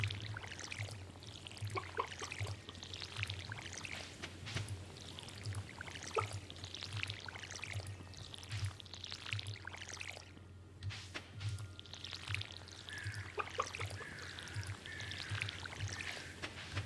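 Crops are watered by hand in the farming video game Stardew Valley, with repeated soft pouring splashes arriving in quick successive bursts over a low, steady background hum.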